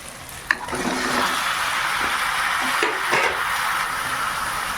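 Chicken pieces land in hot spiced oil during a home chicken curry, a steady loud sizzle with a sharp splash at the start and stirring clatter over it, with no talking.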